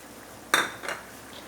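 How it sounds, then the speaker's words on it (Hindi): Soaked rice is tipped into a cooking pot for a potato and rice kadhi, giving one brief close clatter and rush followed by a smaller patter of settling grains, with no talking. "चावल डाल देंगे इसके अंदर।"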